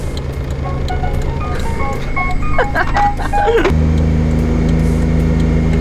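A bright electronic chime melody plays from a Daihatsu Mira Turbo over a steady engine idle, then cuts off, leaving the low idling hum alone.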